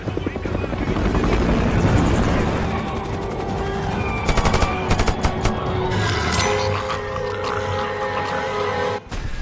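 A helicopter in a zombie film scene gives a loud, continuous rotor roar and chop, with sharp bursts like gunfire and chaotic action noise layered through it.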